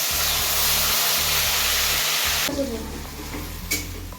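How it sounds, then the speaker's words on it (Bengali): Tomato, ginger and green chili paste hits hot oil with a loud, steady sizzle and hiss, followed by stirring scrapes and clatter in a home kitchen, with a low hum underneath throughout. "এবারে টমেটো, আদা, কাঁচা লঙ্কা যে বাটাটা ছিল এটা তেলের মধ্যে যাবে।"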